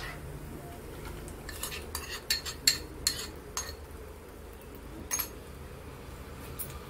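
A spoon stirs masala paste into onions and tomatoes frying in a pan, giving scattered metallic clinks and scrapes over a quiet sizzling background, close by with no talk.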